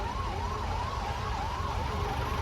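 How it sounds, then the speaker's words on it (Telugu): An ambulance siren near a crowded pilgrim site at Tirumala wails steadily and loudly, rising and falling in a regular cycle over crowd and traffic noise. "అంబులెన్స్ కూడా వచ్చేసింది చూడండి."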